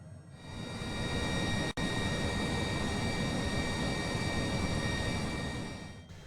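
Honda Jet 2.0 engines in Microsoft Flight Simulator hold a steady, loud broadband whine and rush throughout the descent toward the runway, with a single brief dropout early on and no talking.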